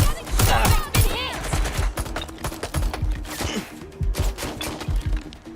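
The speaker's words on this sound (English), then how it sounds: "I'm hit! Getting shot! I've been hit!" Rapid bursts of gunfire from the video game Watch Dogs: Legion crackle loudly and densely in overlapping volleys, mixed with game effects and a voice calling out.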